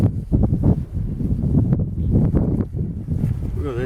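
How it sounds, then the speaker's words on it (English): A south wind gusts across an open farm, buffeting the microphone in uneven rumbling bursts while people talk over it. "We have a good south wind blowing in,"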